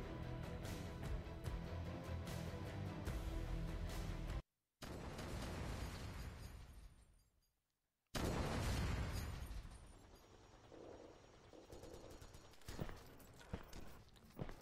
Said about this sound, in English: I'm gonna check out what it's like to use the sniper rifle.